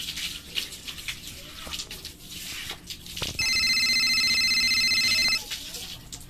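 A telephone rings in a steady electronic pattern for about two seconds midway through, loud and close, with background noise and room sound before it.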